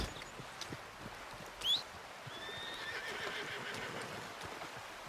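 A horse in the video game Red Dead Redemption gives a brief, high whinny over steady clip-clop hoofbeats and a soft background hiss, all fairly quiet.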